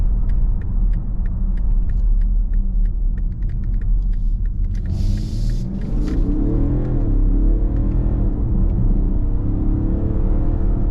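A 2022 BMW X5 40d M Sport xDrive diesel SUV accelerates from inside the cabin, a deep, steady engine rumble and drone building with road roar, loud and continuous and without talk.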